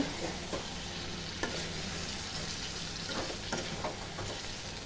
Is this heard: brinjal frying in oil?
yes